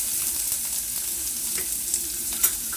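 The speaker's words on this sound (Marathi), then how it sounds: "कढईत थोडंसं चमचावर तेल घालायचं जिरे मोहरी घालायचे ते तडतडायला लागले की कांदा घालायचा" Cumin and mustard seeds frying in a little oil in a kadhai give a soft, steady sizzle dotted with small spluttering pops, heard up close with no voices.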